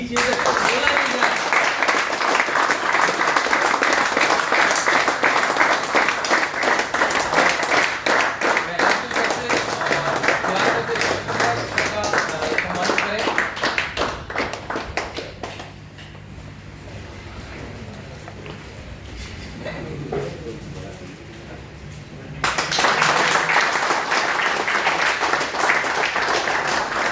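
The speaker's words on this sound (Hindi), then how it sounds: "तालियां रुकनी नहीं चाहिए" An audience at a work meeting applauds loudly and continuously, the clapping thinning into a quieter stretch with talk before a fresh burst of applause returns at full strength.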